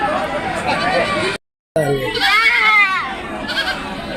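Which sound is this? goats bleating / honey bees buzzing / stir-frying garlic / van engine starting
goats bleating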